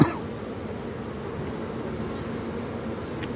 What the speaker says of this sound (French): Il y a un frelon qui vient.